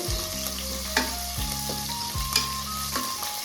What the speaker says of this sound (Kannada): ನಿಮಗೆ ಖಾರಕ್ಕೆ ಎಷ್ಟು ಬೇಕು ಮೆಣಸಿನಕಾಯಿ ಅಷ್ಟು ತಗೊಂಡು ಫ್ರೈ ಮಾಡ್ಕೊಳ್ಳಿ